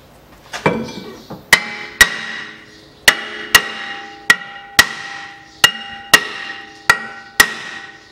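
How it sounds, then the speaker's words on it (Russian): A hammer strikes metal about a dozen times at a steady pace while rear brake discs are changed on a 2005 Peugeot 407 1.8. Each blow rings out loudly, close by. "Берем помощника в виде молотка."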